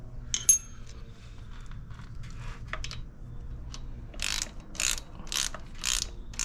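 A ratchet wrench tightening the new shift linkage on a Harley-Davidson motorcycle gives several short, close ratcheting bursts in a steady rhythm, with faint clicks and tool handling before them.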